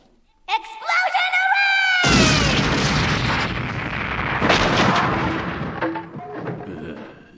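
A magical explosion in a Slayers fantasy audiobook drama erupts as a loud, sustained roaring blast after an excited voice, rumbling on for several seconds before fading as talking resumes.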